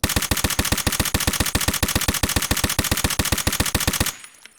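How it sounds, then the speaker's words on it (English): Suppressed M1A rifle in the shooter game Escape From Tarkov, firing a long rapid string of evenly spaced muffled shots, loud and close, ending abruptly into near silence. "That is the suppressed version of the M1A."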